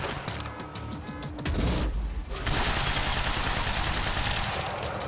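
Rapid gunfire rattles in Quantum Break, opening with short bursts, then erupting into loud, sustained automatic fire that continues to the end, with no talk over it.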